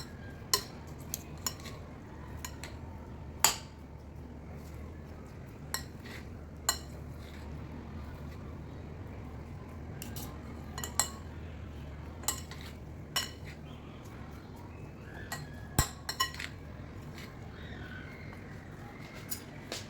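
Tuna pie ingredients are stirred and mixed in a bowl for a tuna pie with quail egg, with a scatter of light utensil clinks and scrapes at irregular intervals over a quiet room hum.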